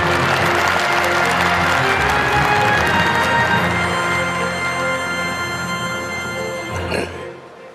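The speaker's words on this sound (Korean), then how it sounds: "이해찬 수석부의장님을 뜨거운 박수로 맞이해 주시기 바랍니다" Loud, dense applause from a large audience greeting the senior vice-chairman at the launch meeting of the 22nd Democratic Peaceful Unification Advisory Council, sustained clapping with some cheering that tapers off and cuts away near the end.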